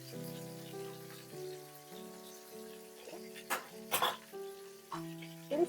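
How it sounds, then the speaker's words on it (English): Chicken frying for Afghan Kabuli palaw crackles and sizzles steadily in a pan under sustained background music, with a few brief louder pops and stirring noises. "It's time to fry the chicken."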